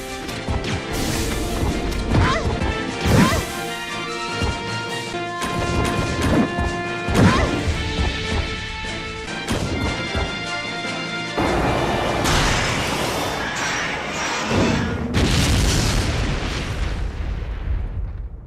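Repeated heavy gunshot blasts and crashing impacts as BOW gas rounds are fired at a boss in Resident Evil Code: Veronica X, loud booms spaced every couple of seconds over a droning game soundtrack.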